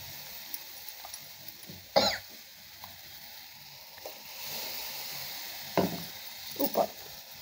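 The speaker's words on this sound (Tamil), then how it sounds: "நம்ம அரைச்சி வச்சுருக்க விழுதை போட்டுக்கலாங்க" Soft, steady sizzling of ground spice paste frying in a pan for tamarind curry, with a few louder scrapes and clatters of stirring at intervals, no voices.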